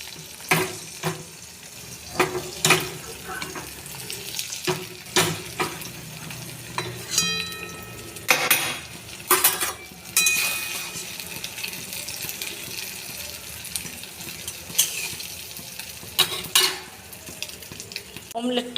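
Beaten egg omelette frying in hot oil in a wok, a steady low sizzle under repeated sharp scrapes and clinks of a metal spatula against the pan, with a few brief faint voices in the background.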